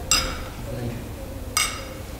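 Glasses clink together during a toast at an art exhibition opening, two bright ringing touches about a second and a half apart over a faint room hum.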